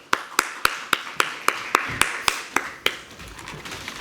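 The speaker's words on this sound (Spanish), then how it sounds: "Un aplauso para todos ellos, por favor." Slow, evenly spaced claps, about a dozen sharp close hand strikes, mark the welcome for panelists at a sustainability congress debate on circular economy and mobility, tapering off near the end over a quiet room.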